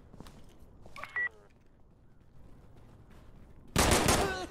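Gunfire in a shooting video game, a short burst near the start and a loud sharp volley near the end, with faint voices talking between shots.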